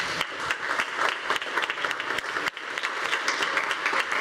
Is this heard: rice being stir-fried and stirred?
no